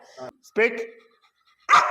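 A trained Rottweiler gives short, close vocal sounds, a brief whine and a sharper bark-like burst, set between quiet gaps.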